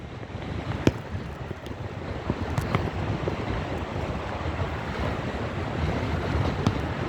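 Foaming sea waves at Ihasalu bay in a storm on a windy April day, a steady close roar of surf and gusting wind buffeting the microphone throughout, with a few sharper splashes and no talk.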